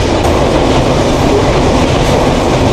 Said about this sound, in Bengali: এই বনলতা এক্সপ্রেস যেভাবে চলতেছে ঝড়ের গতিতে চলতেছে